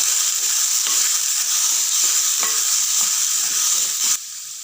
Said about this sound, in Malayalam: ഇതിലോട്ട് ചിക്കൻ പീസ് ഇട്ട് കൊടുക്കാം. നന്നായിട്ട് ഒന്ന് ഇളക്കി കൊടുക്കണം.